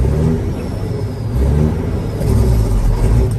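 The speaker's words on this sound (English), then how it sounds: "Go ahead and give it a little throttle here." A 1994 Peterbilt 379 truck engine revs under light throttle with a loud, deep rumble close by. The rumble rises slightly and swells through a steady, unbroken stretch.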